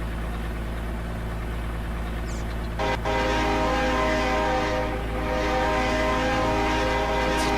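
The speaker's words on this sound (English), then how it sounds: "It's a train sound. It's definitely a train sound." A steady, loud train rumble with a sustained horn blast in the video game Farming Simulator 19, continuing throughout with a brief dip partway through, no talk over it.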